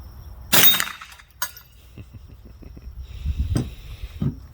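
A Marlin Model 60 .22 rifle fires at a ketchup bottle, and a sharp crack and shatter ring out near the start. Smaller knocks and clinks follow, with a few softer thuds later.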